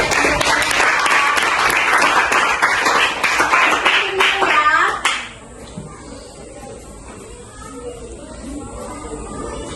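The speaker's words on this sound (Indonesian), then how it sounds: "Kita berikan aplaus untuk Loket." An audience claps steadily for about five seconds, loud and dense. The clapping stops abruptly, leaving a quiet room with faint background noise.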